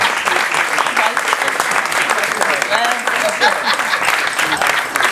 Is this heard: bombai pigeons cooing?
no